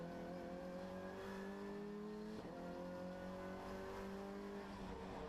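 A Renault Clio Junior race car accelerates hard on a circuit, its engine note climbing steadily through the revs with a brief break for a gear change, loud, close and continuous with no talking.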